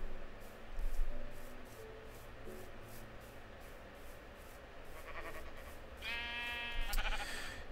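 Sheep bleat in a survival video game, with a few short, wavering calls rising near the end over a soft ambient bed of game sound, moderately close.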